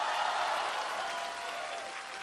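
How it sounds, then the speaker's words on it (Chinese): A large studio audience applauds at a televised singing competition, a dense, steady wash of clapping that holds evenly through the brief stretch. "请大家把最大的掌声给我们的"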